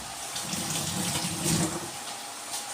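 Tap water runs steadily while black dried lemons are rinsed in a kitchen, a close, even splashing stream lasting a few seconds without speech.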